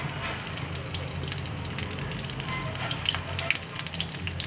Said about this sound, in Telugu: పోపుకి ఆయిల్ వేసుకుని పెట్టుకున్నానండి వెల్లుల్లిపాయలు వేసుకున్నాను